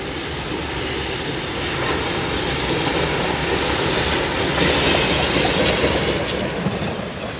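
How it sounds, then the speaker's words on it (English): A CSX freight train rolls past on the Jacksonville to Savannah line, a dense continuous rumble with rail clatter that swells slightly midway and holds steady throughout. "It's just a real train watcher's paradise because we have so many trains."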